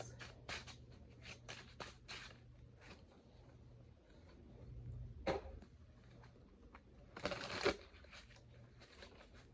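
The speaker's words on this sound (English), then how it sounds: "If I'm shuffling too loud, that's not my intention." Soft shuffling of playing cards close by, papery riffles and taps coming in short bursts over a quiet background, with one louder flurry near the end.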